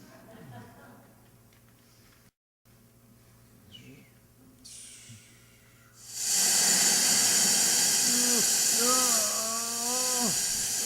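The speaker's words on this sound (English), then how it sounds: "That machine built up quite a lot of steam pressure. I kicked the outlet pipe off, and it's aimed at you." Pressurized steam blasts from a machine's loosened outlet pipe as a loud, continuous, close hiss that starts suddenly midway and keeps going, with a voice crying out over it near the end.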